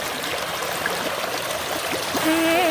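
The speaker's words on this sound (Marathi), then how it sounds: "पाणी झुळझुळ वाहत आहे." Gentle stream water flowing and trickling steadily through a monsoon forest, a close continuous burble with some brighter splashes, with no voices.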